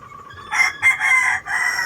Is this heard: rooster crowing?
yes